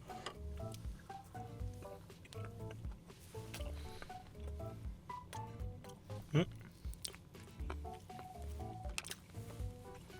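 Boneless chicken feet being chewed up close, with a steady run of wet, soft bites and smacks and occasional crunchy clicks, quiet and rhythmic, with no talking.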